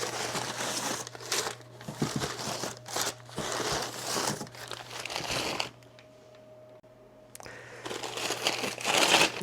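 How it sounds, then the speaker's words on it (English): Diecast racetrack pieces being unwrapped from wrapping paper, close crinkling and rustling of paper in repeated bursts over a faint steady hum, with a quieter pause before more crumpling. "So we're gonna take out some of these and then get to the unwrapping process."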